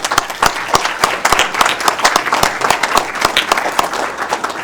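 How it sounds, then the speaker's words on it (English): Applause fills a city council meeting as the room honors a departing council member, with many hands clapping steadily and densely, loud and close, and no talk over it. "Let's give her a big round of applause."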